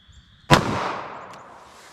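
A single sharp, loud gunshot from a .380 ACP pistol firing Underwood XTP ammunition into denim and MDF, cracking suddenly out of near silence and trailing off in a long echoing decay.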